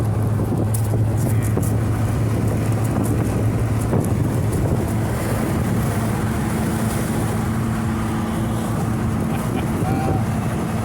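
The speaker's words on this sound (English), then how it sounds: "I don't know if you can hear me over the wind" Heavy wind buffeting the microphone while driving a 1980 VW Rabbit pickup on the road, a loud continuous roar with a low engine drone underneath throughout.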